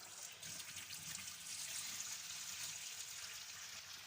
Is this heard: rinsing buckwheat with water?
yes